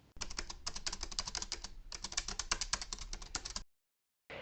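Rapid keyboard typing, a dense patter of crisp key clicks close by, pausing briefly before resuming after a short silence.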